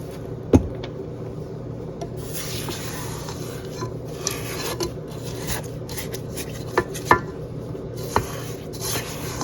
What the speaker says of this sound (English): I'm going to stop it for just a second and scrape down the sides.